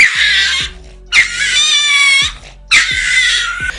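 A frightened dog, scared by a cat, gives high, drawn-out squealing cries in three long bursts with brief gaps, loud and close, sounding distressed and shrill.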